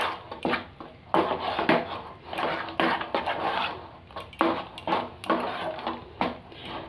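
A utensil scrapes and clinks against a pot while salt is stirred into a dish of pea-pod peels, in irregular bursts of close, moderately quiet knocks.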